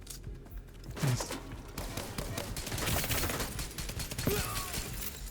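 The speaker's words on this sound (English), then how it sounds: "There's something else shooting me too. Or shooting towards me." Video game gunfire rattles toward the player in a continuous dense fusillade of overlapping shots and mechanical clatter, steady and fairly loud throughout.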